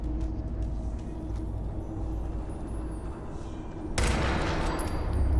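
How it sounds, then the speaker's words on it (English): Gunfire in Fallout 4, heard as a steady stream of rapid shots over a low rumbling backdrop, with a louder, brighter burst near the end. "The gunshots could be heard from a long distance."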